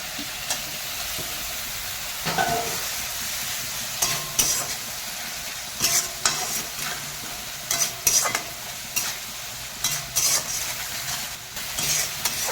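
Mustard paste masala fries in oil in a pan for a Bengali fish curry, a steady close sizzle broken by repeated scraping stirs and spatula knocks, with no talking.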